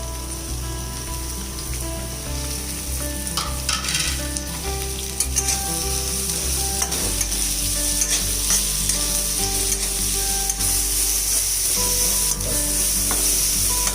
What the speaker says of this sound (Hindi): तो अभी हमें इन चीज़ों को फ्राई कर देना है, प्याज, टमाटर, लहसुन, अदरक और मिर्ची।